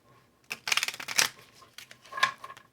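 Small tarot cards are shuffled close up in a few quick riffling bursts, crisp papery flutters separated by short pauses.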